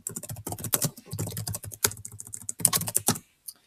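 Quick, irregular clicking of a computer keyboard being typed on, a close and fairly quiet patter of keystrokes with brief pauses.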